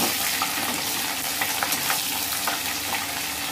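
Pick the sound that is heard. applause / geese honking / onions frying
onions frying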